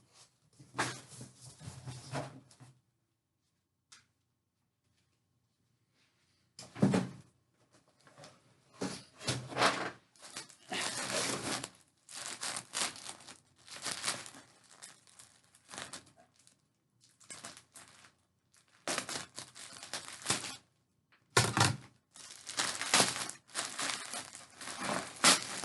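Paper or plastic mail packaging is crumpled, crinkled and torn open, with bursts of rustling broken by pauses while scissors work into a well-packed parcel; the handling is close and moderately loud, with no talking.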